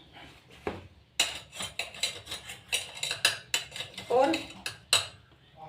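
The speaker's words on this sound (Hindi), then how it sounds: "इन सभी चीज़ों को हम अच्छे से मिक्स कर देते हैं।" A metal spoon scrapes and clinks repeatedly against a dish while salt, garam masala, chaat masala and turmeric are mixed in for homemade chana dal namkeen, the clatter loud and close in quick irregular strokes, with a brief spoken word.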